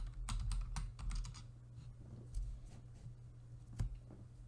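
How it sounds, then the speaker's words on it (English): Typing on a computer keyboard at a Windows PC, entering a search: close, crisp keystrokes in a quick burst followed by scattered single taps, with no talking. "So if I type terminal here"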